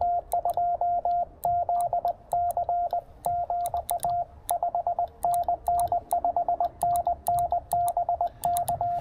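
Morse code from amateur radio stations received slightly off frequency on a five-watt portable setup, a steady pitched tone keyed in quick dots and dashes over soft static hiss and crackle.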